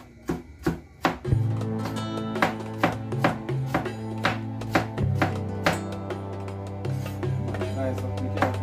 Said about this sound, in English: I'll start off with the carrot now. Well diced up, well nice up.